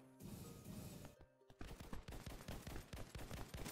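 Rapid shotgun blasts and gunfire in the online shooter ev.io, a dense burst of loud overlapping shots after a brief pause, with music-like tones underneath.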